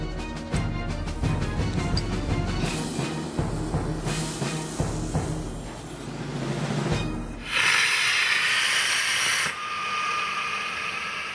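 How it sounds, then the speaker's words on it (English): An evacuation slide bag for an Airbus A380 inflates with rocket gas combined with compressed gas. A loud, sustained rushing hiss and roar run throughout, with a sharper burst of hissing near the end. "I'm using the rocket gas as a booster and combining it with the compressed gas."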